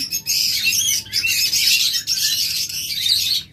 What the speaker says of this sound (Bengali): চমৎকার অ্যাক্টিভ এবং চমৎকার সাইজ কোয়ালিটির পাখি।